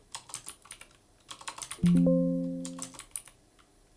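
Quick, close clicks of typing on a computer keyboard, with one short tonal beep in the middle before a final few keystrokes, no speech.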